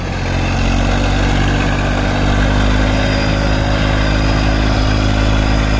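A Massey 1035 DI tractor's diesel engine labours loudly and close while pulling a cultivator through a field, a constant heavy throbbing drone that never lets up, with no speech.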